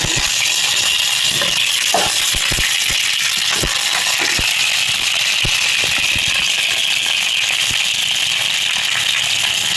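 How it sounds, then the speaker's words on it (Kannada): A kitchen mixer grinder blends curry ingredients for an ivy gourd saaru, producing a loud, continuous whirring roar with gritty rattling clicks throughout and no voices. "ಅದೆಲ್ಲವನ್ನು ಮಿಕ್ಸಿಗೆ ಹಾಕ್ತೀನಿ"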